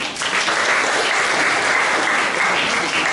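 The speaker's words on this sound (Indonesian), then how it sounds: "Ini kita tepuk tangan dulu." An audience at a school graduation send-off ceremony in Kupang claps loudly and steadily, a dense, even burst of applause that fills the short stretch without talk.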